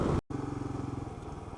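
Kawasaki KLR 650 motorcycle idling close by, a steady low rumbling putter with an even pulsing beat, briefly cut off near the start before settling back into the idle.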